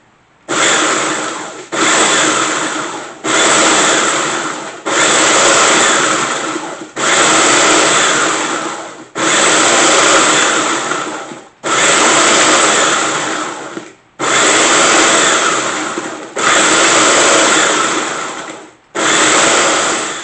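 Countertop blender run in about ten short pulses, grinding scratch grains and eggshells on a homestead, each burst a loud, steady whir with a brief pause between, no talking.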